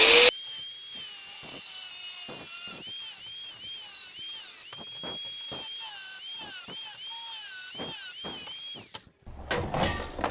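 Galvanized steel U-channel sign post being cut with a power tool, a whining high-pitched grinding tone that wavers and bends while repeated sharp clunks punctuate it, ending in a louder burst of noise.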